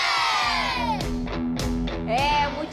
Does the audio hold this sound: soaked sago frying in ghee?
no